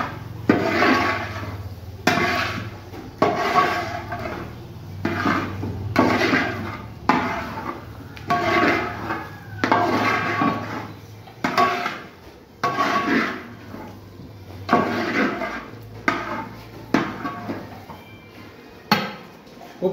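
Potato and onion stir-fry with pepper powder being mixed in a pan, repeated rhythmic scraping and clanking of a spoon against metal at close range, steady strokes every second or so.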